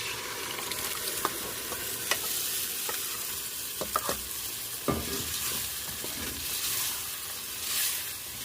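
Tomato sauce added to frying onions and spices in a pan, a soft steady sizzle broken by scattered stirring clinks and scrapes, close and fairly quiet with no voices.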